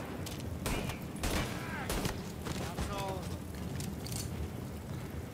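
Shotgun gunfire in the video game Mafia: several sharp, loud blasts at irregular intervals over a dense, noisy game background, with a voice shouting between the shots.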